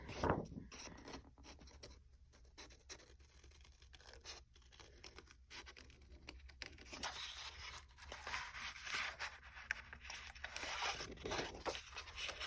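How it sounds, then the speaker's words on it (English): Scissors snip and rustle through material while doll mittens are cut out, a soft, close, continuous scratching and crinkling with irregular small cuts and no talking. "I'm going to attempt to cut her out some mittens."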